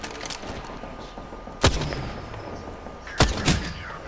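Gunfire in the battle royale game Apex Legends: two separate loud, sharp reports about a second and a half apart, the second followed by a quick extra shot, over a steady game ambience.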